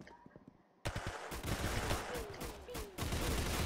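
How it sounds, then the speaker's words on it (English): Rapid gunfire crackles in dense, loud bursts during a round of the Roblox game Arsenal, following a brief quiet moment at the start. "Oh, rocket launcher."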